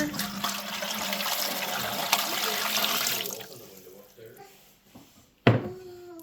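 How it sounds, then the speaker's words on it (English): Four cups of water pour steadily into a metal pressure canner for a few seconds, then stop; a sharp metallic clank follows after a short quiet pause. "So I'm gonna pour in 4 cups of water."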